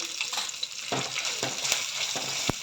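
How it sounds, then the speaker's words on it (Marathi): Steady crackling sizzle of curry leaves, green chillies and turmeric frying in hot oil, with a few soft stirring scrapes and clinks in the pan. "छान हे सगळं परतून घ्यायचं"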